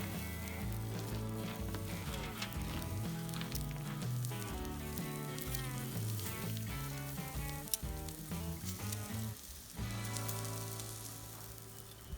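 A steak crackles and sizzles over hot coals, a continuous fine spitting hiss heard quietly beneath louder background music throughout.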